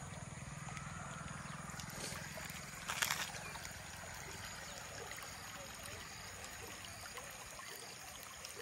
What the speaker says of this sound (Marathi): पाण्याचा किती आवाज येतोय ना.